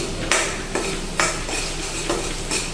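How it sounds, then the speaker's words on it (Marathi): A spoon stirs coriander powder and onion-garlic masala into a spicy drumstick curry in a pan, giving five regular, close scraping strokes over a constant gentle sizzle, with no voices. "व्यवस्थित आपल्याला मिक्स करून घ्यायचे मसाले"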